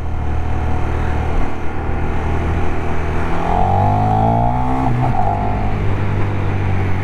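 A KTM 1390 Super Duke motorcycle pulls away in first gear and accelerates hard, its engine note climbing steadily with a quick gear change midway, loud and close throughout.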